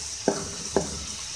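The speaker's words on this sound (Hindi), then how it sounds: "आप इसको फ्राई कर लें अच्छे तरीके से।" Palak, bathua and methi saag frying in a pan, with two quick stirring scrapes against the metal over a low steady hiss, close and fairly quiet.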